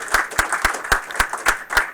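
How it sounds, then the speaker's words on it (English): Sharp, evenly spaced claps, roughly four per second, close and fairly loud, like a small group applauding in a steady rhythm at a student game studio build review. "Please give a round of applause to everybody that came up and showed their games projects off."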